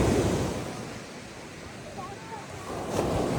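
Sea waves wash onto Vengurla beach in a broad, steady surf hiss, with wind buffeting the microphone and swells rising at the start and end.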